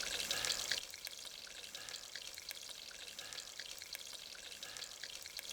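Green chilies frying in hot oil over a village cooking fire, a bright crackling sizzle that bursts loudly at first, then settles into a quieter, steady spitting hiss.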